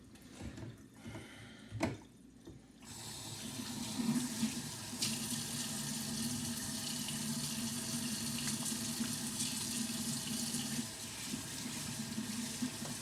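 Tap water running steadily into a kitchen sink drain, a continuous close wash after a couple of brief clunks at the start, with no talking.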